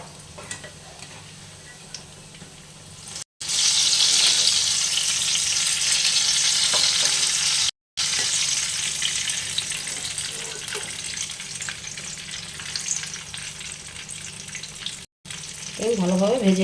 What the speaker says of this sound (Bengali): আমি ভালোভাবে ভেজে নিব আর কি।